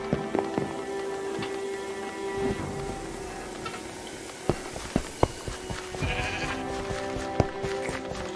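Sheep in the Minecraft Dungeons video game bleat over a steady background bed, with scattered sharp clicks and hits breaking through, all fairly loud and close.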